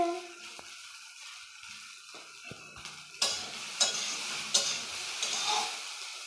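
A single egg stirred and fried in a pan for pasta gives soft scraping stirs followed by a rising sizzle, with several sharp clinks of a utensil against the pan, close and fairly quiet.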